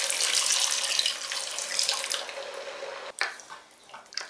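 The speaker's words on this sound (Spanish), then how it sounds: "Vamos a añadir el agua." Water is poured from a tap or jug into a pan of sauce for roast chicken in a home kitchen, a steady near splashing stream lasting a few seconds, then briefly cut off and resumed in shorter pours.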